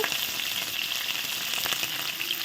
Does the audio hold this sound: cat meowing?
no